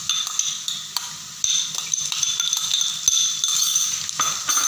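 A spoon stirs ginger-garlic paste into browned onions in a pan, with soft scraping and occasional metallic clinks over a faint steady sizzle.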